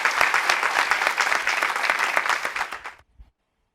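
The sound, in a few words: audience applause in church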